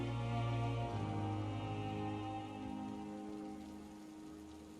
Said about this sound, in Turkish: Tabii hep yağmur yağıyor burada ya.